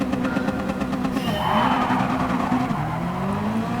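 Cars launching in a Gran Turismo 7 drag race, with a Toyota 86 Group B rally car running against a Honda Civic: steady loud engine drone with rising revs and a tire squeal sweeping through the middle.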